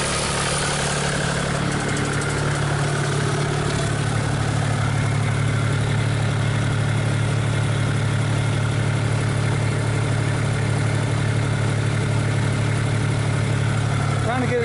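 Cummins engine idling steadily while warming up in a Komatsu PC40 excavator, a constant low, loud hum with a mechanical rattle throughout, and a voice speaking over it.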